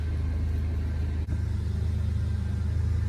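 A 2003 Toyota Tacoma with a newly replaced power steering pump runs steadily nearby, a smooth low engine hum with no groan, and a brief dip partway through.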